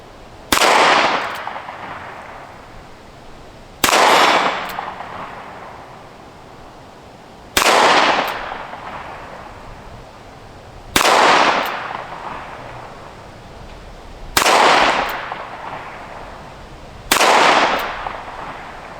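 Gunshots from slow-fire target shooting: six loud, sharp reports, each followed by a short decay and spaced a few seconds apart at a steady, unhurried pace, with no talking.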